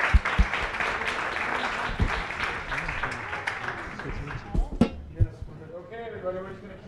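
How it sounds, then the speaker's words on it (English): An audience applauding a panel at the close of a venture capital discussion, a steady wash of clapping with talk over it that thins out toward the end. "one more round of applause for the incredible panel"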